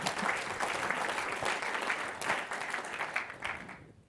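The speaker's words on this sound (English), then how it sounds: "Thank you for that applause." An audience applauds at the Institution of Chemical Engineers (IChemE) 2019 presidential address, steady dense clapping from many hands filling the hall for about four seconds before quickly fading out at the end.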